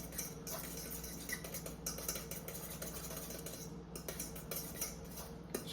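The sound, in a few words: mixing fish taco ingredients with lime and salt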